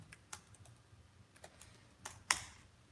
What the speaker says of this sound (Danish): Jeg skriver lige i chatboxen.